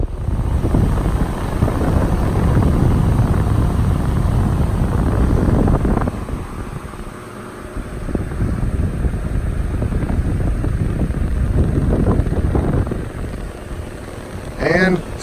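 Electric fan with a plastic blade running loudly with a steady whooshing roar, then dropping and picking up again in a softer whir, close by.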